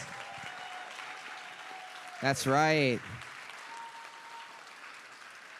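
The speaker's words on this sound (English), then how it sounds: "One more round of applause" Applause from a panel audience rises and fades beneath a brief spoken remark, with a voice breaking in partway through over the steady patter of hands.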